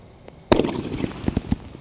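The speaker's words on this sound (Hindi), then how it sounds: "ये चल रहा हमारा सोनी वाला स्काई शॉट" A Sony sky shot Diwali firework launches with one sharp close bang, followed by a series of crackling pops that trail off over the next second.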